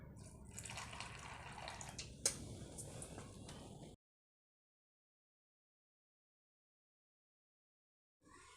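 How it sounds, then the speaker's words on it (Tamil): Running water splashes over soya meal maker chunks being washed in a kitchen, a steady rush with one sharp clink, then silence before the flow briefly returns. "தண்ணி ஊற்றி கழுவிக்கலாம்."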